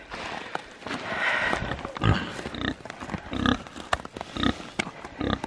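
Pigs grunt and snort while drinking cow milk given as a treat on a farm, with bursts of close, irregular oinks and some shuffling and slurping noises.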